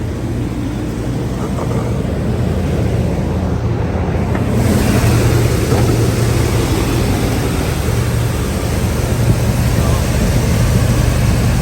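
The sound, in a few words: heater blower fan of 1985 Chevy Suburban running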